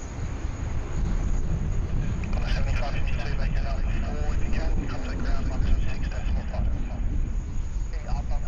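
An airplane lands at Sydney Airport, heard as a distant, continuous low roar with wind rumble while people talk over it.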